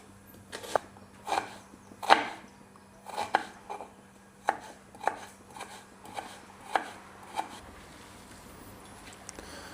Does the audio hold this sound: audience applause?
no